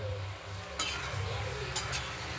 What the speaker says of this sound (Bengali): তার জন্য আমি একটু হলুদ দিয়ে ভালো করে নেড়ে নেব